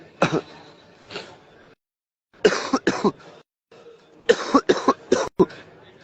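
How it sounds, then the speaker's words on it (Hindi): Several harsh coughs come in bursts, a pair early, then a cluster of rapid coughs near the end, close and fairly loud with short pauses between. "बहुत बोल दिया ना, अभी देखो गला भी खांसी आ रही है"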